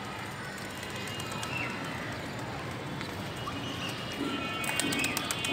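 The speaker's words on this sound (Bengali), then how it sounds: "মাথায় এটা কবুতর বসে আছে।" A pigeon coos on a rooftop, soft and intermittent beneath a steady broadband outdoor hiss.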